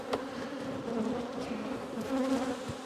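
Honey bees buzz around an open colony frame in late summer, a dense, continuous hum of many insects close by with small swells in loudness, no voices present.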